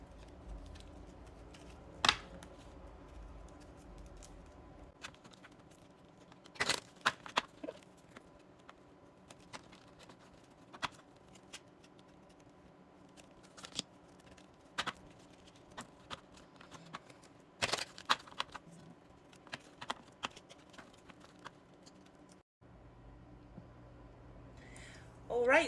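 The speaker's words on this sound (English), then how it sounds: "So I'm going to go ahead and shuffle." Tarot cards riffled and shuffled in bursts of crisp flutters and taps, close by, with scattered pauses and a quiet room between.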